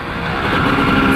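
A chopper-style motorcycle engine runs close by with a steady, slightly swelling mechanical drone in a brief burst.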